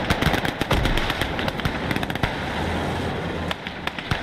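Dense gunfire from the World War II strategy game Call to Arms: Gates of Hell in German conquest mode, with loud, close rapid bursts and overlapping shots cracking almost nonstop, some distant reports mixed in and no talking.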